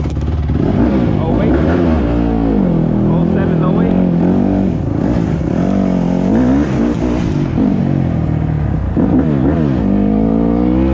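A 2008 Honda CRF150R dirt bike engine revs loudly and continuously up close, pitch rising and falling with throttle blips throughout.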